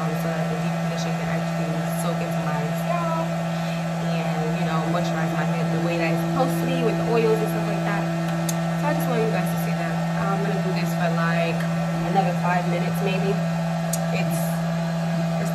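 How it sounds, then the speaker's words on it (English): A small hair dryer plugged in and blowing heat onto a head during a hair wash routine, a steady continuous motor whir and airflow running throughout, with a person speaking over it. "I have this little hair dryer. I'm going to just plug this in, and it's just like a little dryer, just to add some heat,"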